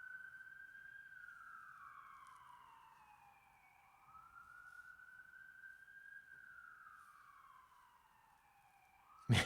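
A distant police siren wails in slow rising and falling sweeps, faint and steady across a quiet background, with a brief louder bump at the very end.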